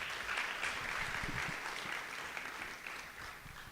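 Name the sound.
audience applause for the children's drama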